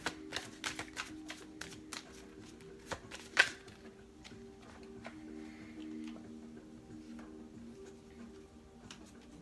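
Tarot cards are shuffled and drawn in a quiet room: a quick burst of crisp riffling snaps at the start, then softer scattered card slides and taps, close and fairly faint.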